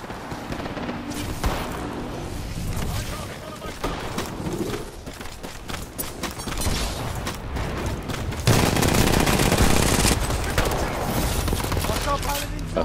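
Weapons firing in the video game Titanfall during a frontier-mode match, with dense bursts of gunfire and booms layered over game sound effects, growing louder and heavier in the last few seconds.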